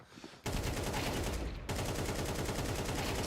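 Fully automatic AK rifle fire in a video game, loud and close, rattles off in a dense unbroken burst. It pauses briefly after about a second, then resumes just as heavily. No talking is heard.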